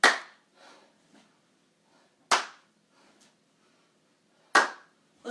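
During a strength, flexibility and balance workout of side-step squats, sharp, loud hand claps land about every two seconds, three in all, each followed by a faint echo in a quiet room.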